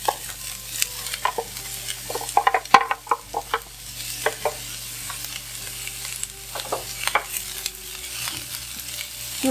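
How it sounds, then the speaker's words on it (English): Onions frying in olive oil in a pan, a steady sizzle broken by repeated stirring scrapes and clatters, close and fairly loud throughout, with no talking. "To fry onions, I'm going to use olive oil."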